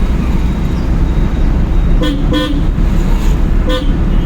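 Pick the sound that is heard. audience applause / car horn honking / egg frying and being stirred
car horn honking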